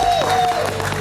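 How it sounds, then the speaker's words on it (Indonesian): Studio audience applause on an Indonesian talk show greeting a guest singer, a dense steady patter of clapping close by, with a sustained tone running through it. "Kita kasih tepuk tangan sekali lagi."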